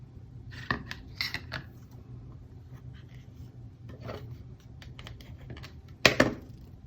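Scissors trimming ribbon on a handmade card, a few quiet snips and rustles close up, with one sharper cut near the end over a faint background hum.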